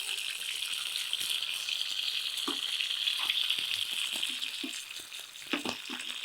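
Curry leaves, shallots and mustard seeds tempering in a pan of hot oil for a village-style urad dal kuzhambu, giving a steady close sizzle with scattered small pops and crackles throughout.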